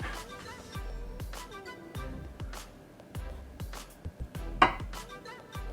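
An 8-inch MOSFiATA carbon chef knife slices food on a cutting board in a run of crisp, evenly spaced chops, close and fairly quiet, with a few sharper clicks near the end.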